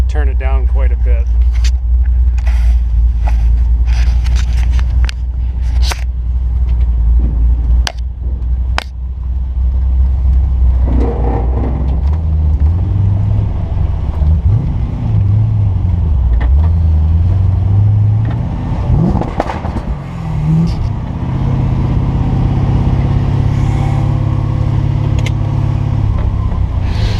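LSX-swapped Triumph TR7 with launch control, a loud, heavy V8 rumble close by, revving and surging with gear changes over nearly half a minute, with sharp clicks and rattles on top.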